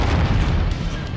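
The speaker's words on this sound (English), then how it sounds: "AC-20 doing major damage to its armor" A heavy AC-20 autocannon shell bursting against a mech's armor in MechWarrior 5, a dense, continuous booming roar that fills the whole moment, loud and close with no voices over it.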